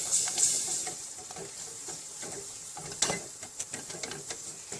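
Milk is added to a béchamel sauce for lasagna in a pan as it is whisked: soft sizzling with scraping and clicking strokes, close and fairly quiet, with no voices.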